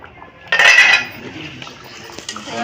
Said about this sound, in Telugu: ఇప్పుడు మూత తీసి చూద్దామండి ఒకసారి